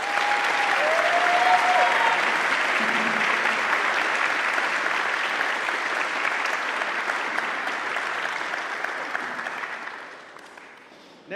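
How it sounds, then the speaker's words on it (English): A concert audience gives a steady, full round of applause for euphonium players in a campus band. The clapping holds evenly for about ten seconds, then tapers off near the end. "Let's please give them a round of applause."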